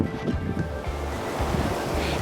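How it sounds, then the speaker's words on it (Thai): Sea waves wash steadily onto a beach at Ban Krut in Prachuap Khiri Khan, Thailand, mixed with strong gusting wind buffeting the microphone, a continuous rough roar with no speech. "ข้างนอกเป็นวิวทะเลสวยมากๆเลยค่ะ ลมอาจจะแรงนิดนึงนะคะทุกคน"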